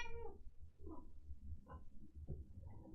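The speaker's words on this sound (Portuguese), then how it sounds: "Então por que você tá miando?" A pet cat, a plump female, meows several times indoors, clear and fairly close, with drawn-out calls spaced across a few seconds over a low room hum.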